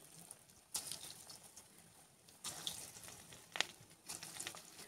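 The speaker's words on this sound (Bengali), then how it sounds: "আর একবার আমি ভেজে দেখাচ্ছি।" Dal pakoras fry in hot oil with a soft, crackling sizzle that flares in short bursts and settles back, faint and close, with no talking.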